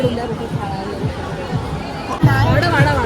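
Weekend crowd at a busy restaurant, a steady murmur of many overlapping conversations and chatter all around, with nearer voices rising out of the din.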